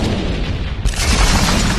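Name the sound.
massive explosion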